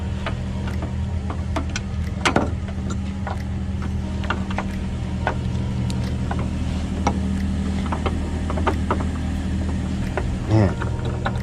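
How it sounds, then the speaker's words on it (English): A car idles steadily while warming up, a low continuous engine hum running throughout with clicks and clatter from nearby work on top. "while he warms up his car."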